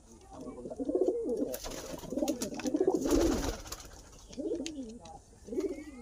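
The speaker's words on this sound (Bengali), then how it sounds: "অনেকগুলো পায়রা আছে।" A flock of domestic pigeons coos nearby, repeating soft, rolling phrases in an uneven rhythm over faint background noise.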